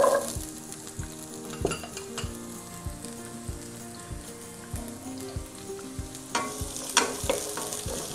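Shallots sizzle and fry steadily in a pan for a beef kumbanadan dish, with a continuous hiss broken by repeated scraping stirs and occasional clinks of a utensil against the metal, close and moderately loud.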